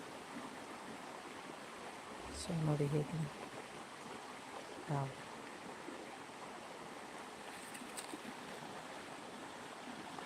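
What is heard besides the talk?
flowing stream water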